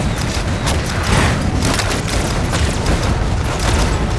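Grenade blasts in the strategy game Iron Marines: loud, dense booming rolls on continuously, with repeated thumps layered over a heavy battle roar.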